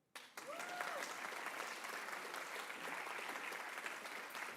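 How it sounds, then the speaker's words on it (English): Steady audience applause at a lecture rises suddenly and holds, a dense wash of many hands clapping, fairly faint and distant, with no talk over it. "Yeah, you can clap"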